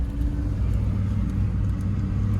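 A $225 auction car's engine, struggling and nearly out of gas, makes a loud, steady low rumble from inside the cabin. It drones evenly without clear revving.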